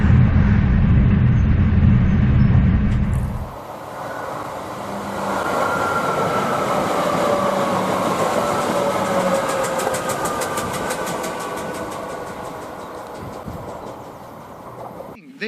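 A multiple unit train passes close by near Fairfield Station in Manchester: a loud low rumble at first, then a steady rolling drone with rising whine and rhythmic clatter that slowly fades.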